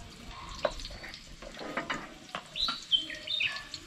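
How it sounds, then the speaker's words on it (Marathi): A few high, thin bird chirps ring out over soft background splashing and kitchen clatter at an outdoor wood-fired stove, brief and moderately distant. "ही बघ पक्षाचा आवाज जास्त पक्षी येले"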